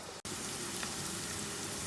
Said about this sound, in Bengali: পেঁয়াজটা এখানে ভাজছি